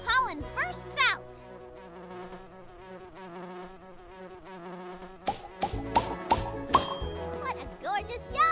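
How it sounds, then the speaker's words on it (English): A cartoonish bumblebee buzzes in the Nature Cat video game while buzz-pollinating a flower, with repeated short vibrating bursts over light game music and clinking chimes, close and fairly loud. "Bumblebees know what to do. They use buzz pollination, vibrating until pollen bursts out."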